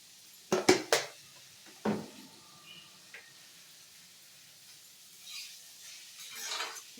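Broad bean pods being stirred with salt in a frying pan: a few sharp spoon-on-pan clinks near the start and one more later, over a faint steady sizzle, with soft scraping toward the end.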